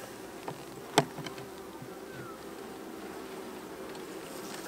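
Honey bees buzz steadily around an open hive during an inspection, a low continuous drone with a sharp knock near the start.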